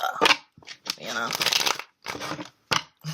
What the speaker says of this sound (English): I just be shuffling with the bridge